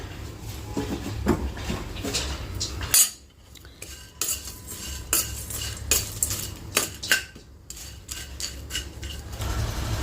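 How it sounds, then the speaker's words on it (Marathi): Whole spices dry-roasted and stirred in a hot kadhai over a low flame: a metal spoon scrapes and clinks against the pan in repeated strokes, close and clear, with no talking. "मंद गॅसवरतीच भाजते मी हलकेसे भाजायचे आहे"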